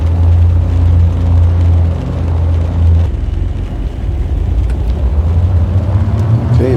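An aircraft taxis in the X-Plane 12 flight simulator game, with a loud, steady low engine rumble that dips midway and then builds again.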